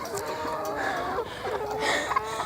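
Chickens cluck and murmur on a small farm during a walk-through of the coop, a low continuous chatter of fowl with occasional louder calls near the listener.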